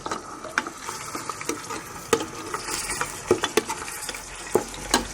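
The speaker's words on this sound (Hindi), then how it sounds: "भूनते वक्त आपने चम्मच थोड़ा हिलाते जाना है।" Beef frying in a pan with ginger-garlic paste for nihari, a constant close sizzle broken by the scrape and clink of a spoon stirring, with no talking.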